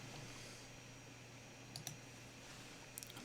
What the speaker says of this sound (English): There's a couple clicks of my mouse.